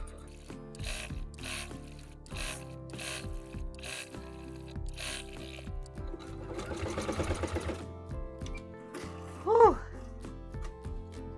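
Sewing machine stitching stretchy swimsuit fabric in rapid close mechanical bursts, a rhythmic whirring clatter that starts and stops, with a short louder clunk near the end.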